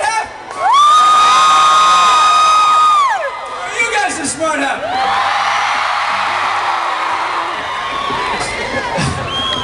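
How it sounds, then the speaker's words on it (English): A concert audience screams and cheers loudly at a rock show, a dense crowd roar with shrill whoops swelling and fading across the whole stretch, staying loud throughout. "this side screamed louder"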